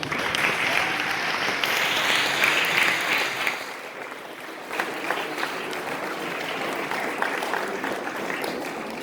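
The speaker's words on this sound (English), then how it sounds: "you give yourselves a round of applause" Audience applause following judges' comments at a Shakespeare recitation competition's boys' semi-final, a steady wash of clapping from a hall crowd that fades slightly midway and then continues at a lower level.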